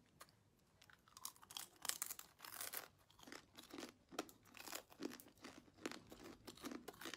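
Loud, close crunching and crackling as an oversized fried rainforest scorpion is bitten into and chewed, with irregular brittle snaps and rustling that continue throughout without talk.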